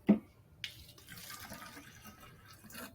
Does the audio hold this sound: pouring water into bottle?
yes